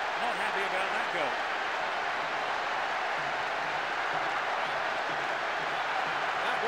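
A high-turnout stadium crowd at a Monaco versus Dortmund football match roars steadily after a goal, a dense, sustained wash of noise with no clear breaks.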